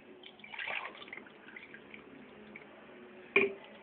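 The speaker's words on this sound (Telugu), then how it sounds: "ఇందులో వాటర్ వేసుకుందాం." Water is poured into a pot of chopped mixed vegetables on a stove for an Andhra-style pulusu, giving a soft, brief pouring rush near the start and a sharp clink later, all close and fairly quiet.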